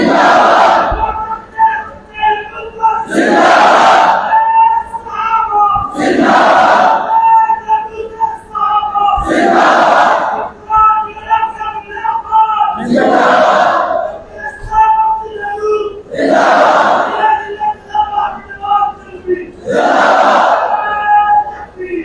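Large crowd at a religious conference in Pakistan chanting slogans in loud call-and-response bursts, a regular rhythm of roaring shouts repeating roughly every three seconds with brief lulls between.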